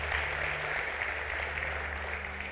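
Church congregation applauding during a sermon, a steady, even wash of many hands clapping, moderately loud and sustained, with a low hum of the hall underneath.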